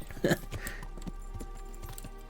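Horse hooves clip-clopping in the video game Kingdom Come: Deliverance, a few soft irregular thuds after one louder burst, faint and close, with a steady low hum underneath.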